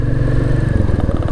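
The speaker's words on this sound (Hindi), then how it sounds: "देखो इस टेरेन में कैसी चलती है ये बाइक" A 2024 Royal Enfield Meteor 350 motorcycle ridden along a hilly trail, its engine giving a loud, close, low rumbling thump that stays steady with slight rhythmic pulsing and a touch of clatter, no talking over it.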